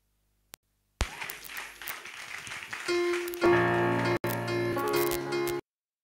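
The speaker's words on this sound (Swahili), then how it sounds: "Wapi makofi ya Bwana" A church audience at a creative night worship event bursts into applause that builds from scattered clapping into sustained loud clapping, with music tones rising underneath before it cuts off.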